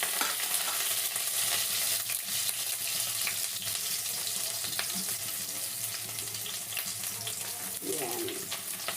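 Garlic and onion sizzling in hot oil for native chicken tinola, a steady crackling fry with stirring scrapes running throughout, close and continuous with no talk.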